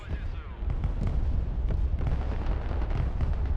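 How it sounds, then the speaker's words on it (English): Dense rumbling artillery barrage in the Broken Arrow strategy video game, a continuous loud roar of blasts with sharper explosions scattered throughout. "And Taz lights off his 15 barrage."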